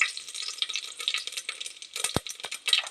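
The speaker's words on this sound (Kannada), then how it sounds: "ಸಾಸಿವೆ ಆದಮೇಲೆ ಜೀರಿಗೆ" Cumin seeds hit hot oil after mustard seeds in a pressure cooker, crackling and sizzling close up with bright, scattered pops and a few sharp ticks of a spoon against metal, no voices.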